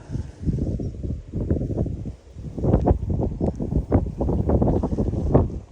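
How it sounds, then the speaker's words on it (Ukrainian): Strong autumn wind on a riverbank buffets the microphone in loud, uneven gusts, a steady low roar with repeated harder bursts and no voices. "Вітер, звісно, задуває жорстко"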